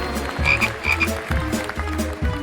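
A frog croak sound effect for a clay frog, with loud, close croaks repeating in a steady rhythm, no talking.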